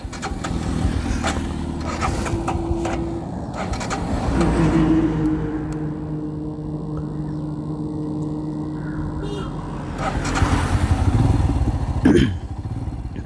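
A vehicle engine, probably a motorcycle, starts on a road trip out of Pudukkottai, then settles into a steady, fairly close idle and running drone with some clatter throughout.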